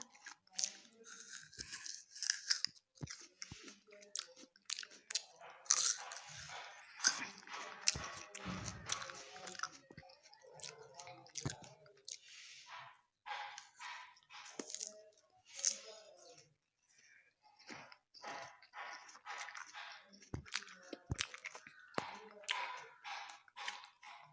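Crunchy kul (jujube) fruit is bitten and chewed close up, with repeated crisp crunches and wet chewing, broken up by a person talking.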